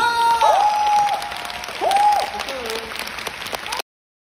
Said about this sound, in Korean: 소리 지르지 말고 박수 쳐!